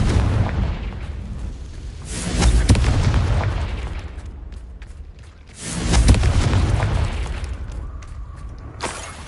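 Two heavy booming blasts from the Confringo blasting spell in the game Hogwarts Legacy, each a deep rumbling burst that swells and slowly fades, followed by a short sharp crack near the end.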